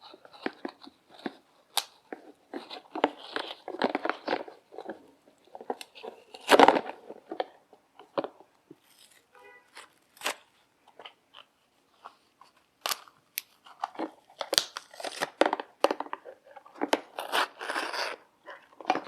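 A Mercedes 560SL oil filter is cut open after engine break-in, giving irregular crunching, snipping and scraping bursts, close and fairly loud, with brief pauses between cuts.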